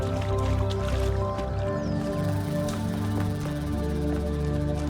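Splashing and sloshing as a character wades through water in the video game The Talos Principle II, soft wet squishes repeating over a steady layer of game music and ambience, close and moderately loud.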